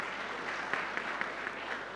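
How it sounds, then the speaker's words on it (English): Audience applause at a sports injuries and orthopaedics centre launch event, a soft, distant wash of clapping from a crowd, steady and faint with a few sharper claps standing out. "Applause to him."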